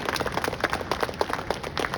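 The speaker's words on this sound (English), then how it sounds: "Can you give him another round of applause?" Audience applause at an interfaith service in Tobago, a dense run of claps filling the room steadily throughout, fairly close and continuous with no talking over it.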